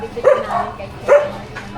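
Dogs give two short, close barks about a second apart. A low background murmur continues between them.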